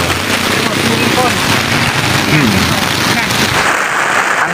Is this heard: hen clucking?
no